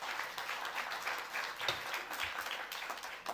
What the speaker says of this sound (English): Please hold your applause till the end of the public hearing